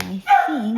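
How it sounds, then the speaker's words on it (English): A vocal dog barks once, close by in a quiet room, followed by a short yelp-like tone, while a person's voice briefly talks over it. "sorry, that's the dog barking."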